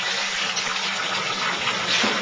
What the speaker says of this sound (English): I can just fill it back up with lake water.